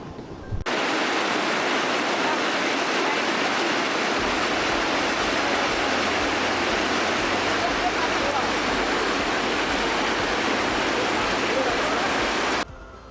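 A river along the Wakhan Corridor in Tajikistan, where stones are being thrown in to build a crossing, rushes loudly and steadily. A dense, unbroken roar of flowing water fills the whole stretch.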